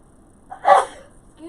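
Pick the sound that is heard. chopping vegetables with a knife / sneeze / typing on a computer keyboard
sneeze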